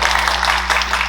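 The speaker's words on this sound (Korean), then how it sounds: "박수 한번 쳐주세요" Audience applause at an academic conference hall, a brief, even wash of many hands clapping together, close and fairly loud, with a steady low hum beneath and no talk.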